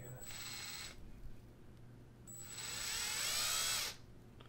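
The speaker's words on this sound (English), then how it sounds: "Now we can start drilling." A power drill whirs in two bursts, drilling into wood for a graft, a short one and then a longer, louder run, with a low steady hum underneath.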